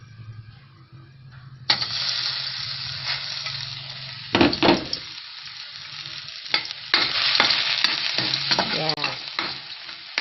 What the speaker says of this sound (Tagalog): We put some oil, and then the garlic.